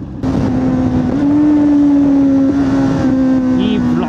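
A superbike engine droning loud and close as the rider slips the clutch at night, a steady high-pitched note holding and rising slightly, with Z900, Hayabusa and ZX10R machines along for the run.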